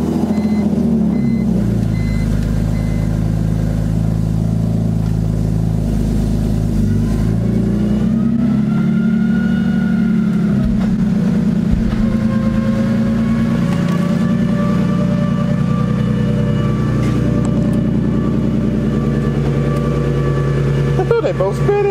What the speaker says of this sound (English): Let's start this bad boy up. Y'all haven't heard my car in a minute.